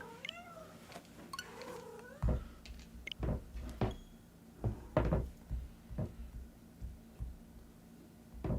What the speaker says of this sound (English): The Game & Watch systems keep getting knocked over by this fucking cat.